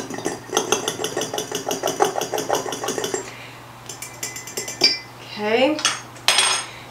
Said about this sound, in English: So now we are going to whisk the egg just a little bit in here.